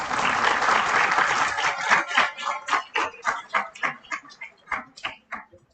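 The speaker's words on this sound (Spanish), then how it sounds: "Aplausos, por favor." Audience applause at the opening of a business conference lecture series, a dense burst of clapping that thins into a slowing run of individual claps before stopping.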